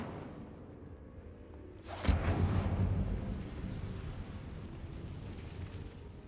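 Incendio fire spell cast in Hogwarts Legacy: after a quiet, low room tone, a sudden whooshing burst of flame flares up, then settles into a sustained roaring crackle that slowly fades.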